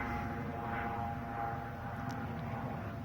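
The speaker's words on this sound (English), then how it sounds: "I think that's the plane." An airplane passes overhead as a faint, steady distant engine drone with a low rumble and a thin sustained hum, no voices audible.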